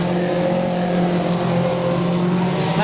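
Top Star Junior Sedan race cars on the last lap of a speedway feature race, giving a loud, steady, close engine roar that drones on without a break.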